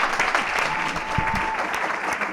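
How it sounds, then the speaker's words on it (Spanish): An audience at a live talk-show recording breaks into dense, sustained applause, steady and close throughout. "Un aplauso muy fuerte para ella."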